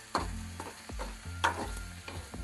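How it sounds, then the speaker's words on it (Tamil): Tomatoes sauté in a pan, with a soft sizzle broken by a few spatula scrapes and knocks over a couple of seconds, close and quiet, with no talking. "தக்காளி மசங்கிற அளவுக்கு நல்லா வதக்கிடணும்."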